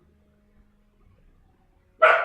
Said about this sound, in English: Excuse me for the dog.